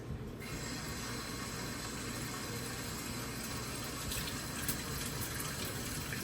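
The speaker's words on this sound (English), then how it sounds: "First, let me rinse off these things." Tap water runs steadily into a kitchen sink while vegetables such as onion and sweet pepper are rinsed for a steamed fish and callaloo dish, a continuous close splashing rush with no talk.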